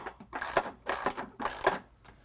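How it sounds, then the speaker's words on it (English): A ratcheting wrench drives a nylock nut up a threaded bolt toward a bracket on a truck load bar, giving three close, bright bursts of rapid pawl clicks separated by brief pauses, with no talking. "I'm using a ratcheting wrench. And what I'm going to do is just start turning this nylock nut until it reaches up and contacts the bracket."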